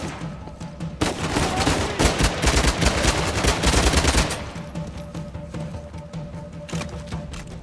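Sustained automatic gunfire and overlapping shots fill a firefight in Uncharted: The Lost Legacy, loud and dense for several seconds before thinning to a lighter rattle of distant shots.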